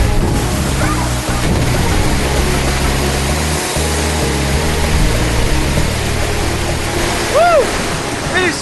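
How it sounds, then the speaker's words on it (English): Forceful waterfall in Cambodia near Angkor Wat, a dense steady roar of falling water filling the scene, with faint voices and a brief higher tone near the end. "It is so forceful underneath that waterfall"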